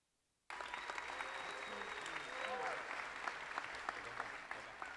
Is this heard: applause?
yes